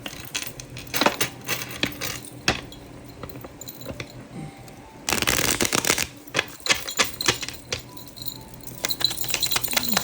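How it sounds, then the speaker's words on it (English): Close, crisp shuffling of tarot cards, with bursts of quick riffling and tapping clicks, interrupted by quieter pauses. "Let me shuffle this"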